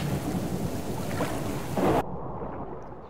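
Heavy rain and rumbling thunder of a storm in the survival video game Subsistence, a dense roar that abruptly drops to a muffled, quieter wash partway through.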